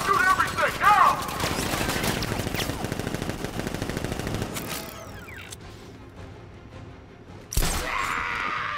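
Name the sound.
gunfire from guards in video game Batman Arkham Knight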